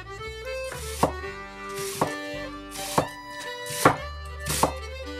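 A knife slicing red onion into thin half rounds on a cutting board, five crisp evenly spaced chops about a second apart, close and clear, with no speech.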